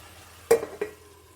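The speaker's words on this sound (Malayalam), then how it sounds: "നമുക്കിനി ഇതിലേക്ക് ചിക്കൻ ഇട്ട് കൊടുക്കാം അടച്ച് വെച്ച് വേവിക്കാം" Raw chicken is tipped into a pan of beetroot masala, giving two quick, soft clattering knocks and a faint scrape against a low, steady background, with no sizzle standing out.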